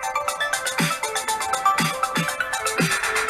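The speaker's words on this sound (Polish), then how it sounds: "Podajmy sygnał sinusoidalny albo jakąś muzyczkę." A sine-wave test tone plays through a Musical Fidelity A2 amplifier under maintenance, heard as steady electronic tones with repeated warbling, ringtone-like pulses over about three seconds, loud and alone.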